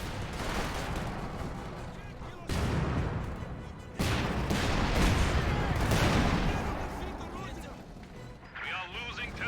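Artillery barrage and machine gun fire in a WWII strategy game, Ostheer against Soviets: dense, continuous gunfire and explosions with abrupt loud bursts, a voice talking over the battle throughout.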